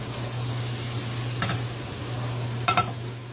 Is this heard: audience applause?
no